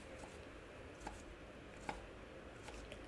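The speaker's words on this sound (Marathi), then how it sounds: "हे माझी लसणाची पाती आता चिरून होत आहे" A knife chops fresh green garlic leaves on a board for thepla, a few faint, widely spaced knocks over a soft, steady background hiss with no talking.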